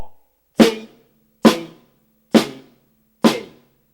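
Four evenly spaced drum strokes, played hand to hand as steady quarter notes in a beginner lesson, each a sharp, loud hit with a short ringing tail, alone with no talking.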